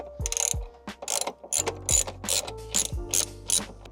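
A hand ratchet clicks in quick bursts of strokes while loosening a 10 mm bolt during an intake install on a Ford Mustang GT, close and clear with no talk.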